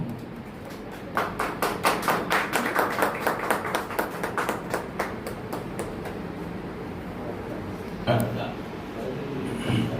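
An audience applauding a woman being honoured at a stage event, steady rhythmic claps fading after several seconds before a brief louder burst, with a voice talking over it.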